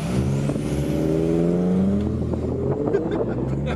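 A Lada Priora and an Opel Astra GTC race side by side, engines roaring loud and close as they accelerate hard, rising pitches layered over each other throughout.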